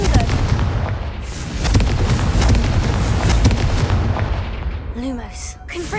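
Confringo blasting spells burst in rapid succession in Hogwarts Legacy, a dense barrage of loud booms and crackling explosions, with a voice shouting spell names throughout.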